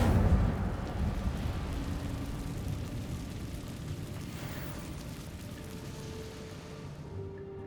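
An Incendio fire spell cast in Hogwarts Legacy gives a sudden low burst of flame at the start, which then trails into a rumbling, crackling roar that slowly fades, with no talk.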